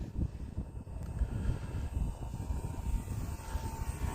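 An E-flite T-28 radio-controlled model airplane flying smooth, easy passes outdoors: a steady, fairly faint engine drone with wind rumble, continuous throughout and no talk.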